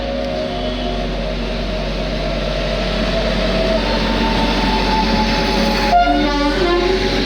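Kanchenjunga Express pulling into a station, a steady rumbling train with a low drone throughout and a horn-like tone sounding near the end, close and loud with no talk.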